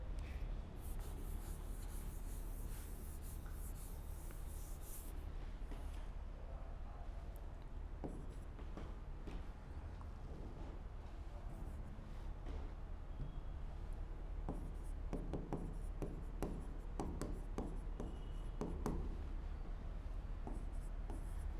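A teacher writes on a board during a geography lesson, producing continuous faint scratching and tapping strokes, with a burst of firmer rubbing near the start and quick clustered strokes toward the end.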